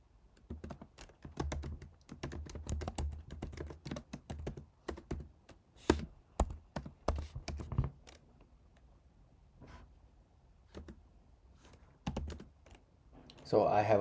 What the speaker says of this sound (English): Now I'm going to type the command open SSL generate